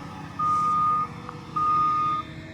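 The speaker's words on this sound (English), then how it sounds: "these are the very cool trucks that the city of Franklin has" A City of Franklin truck backing up at a driveway job gives two long, loud reversing beeps, evenly spaced, over a low idling engine rumble.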